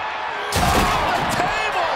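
In the WWE 2K24 wrestling game, a wrestler crashes onto a table with a sudden heavy impact, followed by a roaring crowd and an excited voice over the noise.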